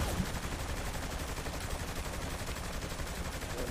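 Gunfire in the action game Saints Row: The Third, a dense, continuous rattle of rapid shots, loud and unbroken for the whole stretch.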